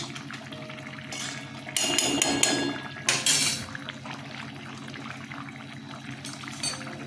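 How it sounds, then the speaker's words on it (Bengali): A spoonful of ghee goes into a pan of Bengali prawn malai curry, giving a short burst of sizzling and spoon-against-pan clinks in the middle, set against a quiet kitchen background. "এক চামচ ঘি দিয়ে দিলাম"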